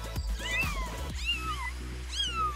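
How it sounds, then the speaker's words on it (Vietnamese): A cat meows several times in a row, clear and close, with a short pause between the cries and no talking. "Có tiếng mèo kêu."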